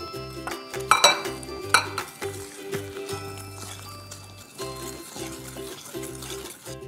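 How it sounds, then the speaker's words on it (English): A utensil stirs cookie dough with granulated sugar by hand in a bowl, giving soft scraping and occasional clinks against the bowl over a faint background hum. "You have to mix it until it's smooth."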